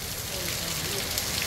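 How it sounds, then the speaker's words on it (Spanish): Heavy rain pours steadily during a storm, the first downpour of the April rainy season, as a dense, even hiss with a faint voice underneath. "Está lloviendo bastante fuerte, señores."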